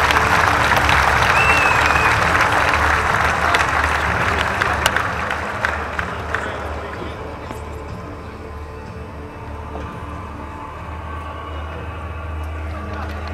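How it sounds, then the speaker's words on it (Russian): Crowd applause for a fighter after a knockout at an amateur combat sports tournament in Kharkiv, 2016, dense clapping that fades into hall murmur with a low steady hum and a voice speaking over it. "Аплодисменты, поддерживаем бойца"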